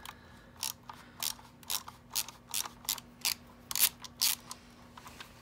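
A small socket ratchet working screws loose from a C5 Corvette climate control panel, giving a steady series of crisp clicking bursts close by with brief pauses between strokes and no talking.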